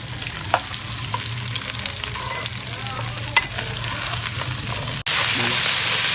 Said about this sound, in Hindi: भिंडी को हम तकरीबन 4-5 मिनट तक फ्राई करेंगे ताकि इसकी जितनी लेस है वो खत्म हो जाए